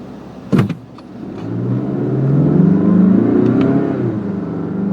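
A 2023 Mazda CX-5 Signature Turbo AWD accelerates from inside the cabin, its engine note rising and swelling steadily after a brief click, then easing slightly at the end.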